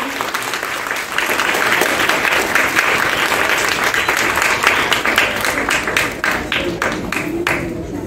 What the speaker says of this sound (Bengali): খুব জোরে একটা হাততালি হোক।